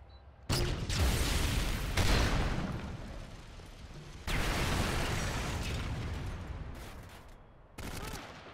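Gunfire in Call of Duty: Modern Warfare 3 online multiplayer, with loud broadband bursts of shots and booms repeating across the clip, some heavy sustained volleys and a final short burst near the end.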